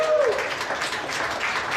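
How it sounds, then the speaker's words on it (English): An audience at a venue gives a round of applause, a steady wash of many hands clapping, with a brief whistle-like tone at the start and a faint voice underneath. "and another round of applause for Confluence Center,"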